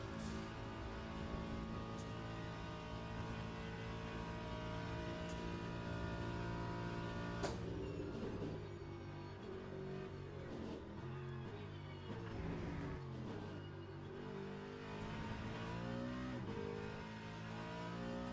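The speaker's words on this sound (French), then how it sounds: "là on accélère comme une brutasse" A Ford Mustang race car in the Le Mans Ultimate racing game at the 24-hour circuit, its engine revving hard and climbing through gears in a loud, continuous roar with brief shifts and dips in pitch.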